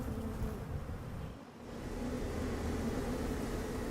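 Bees buzz in a steady, continuous drone, briefly dipping mid-way before resuming, close and moderately loud.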